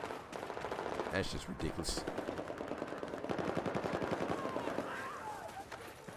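Automatic gunfire in Battlefield 4 multiplayer rattles in dense rapid bursts almost nonstop, loud and close, with a voice talking over it.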